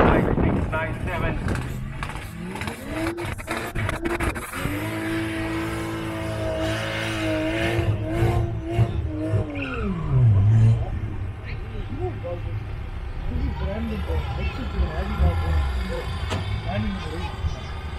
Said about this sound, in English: Supra chassis, BMW powered, piloted by Naval, running on the Mickey Thompson